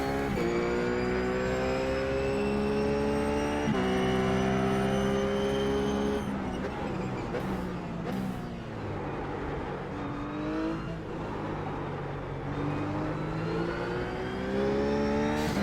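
A RUF race car on the Zandvoort track in the iRacing simulator, its engine whining loudly through rising gears with sharp shift drops and revs climbing again, continuous and close throughout.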